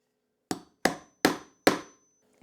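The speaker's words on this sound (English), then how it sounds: "we're going to give it a few taps with the hammer" A hammer tapping the beveled end of an eyelet post on sewing work, four crisp, evenly spaced taps followed by the start of a fifth, close and loud against silence.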